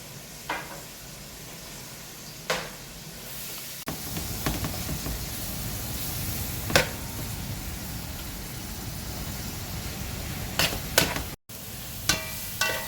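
Basil, thyme and cumin sizzle in a hot pot as they are stirred: a soft, steady frying hiss broken by sharp spoon clicks and knocks against the pot at intervals.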